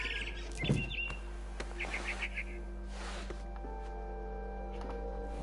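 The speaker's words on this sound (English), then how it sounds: "Then I heard chirping outside my window. It was a barn swallow going back to her nest." A barn swallow chirps near a window in the game What Remains of Edith Finch, with short faint tweets over a steady low hum of ambient game sound.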